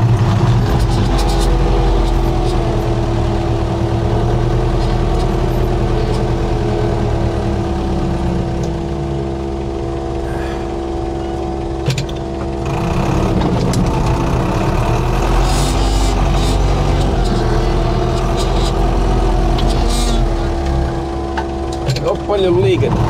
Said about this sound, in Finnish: Paljon liikennettä niin.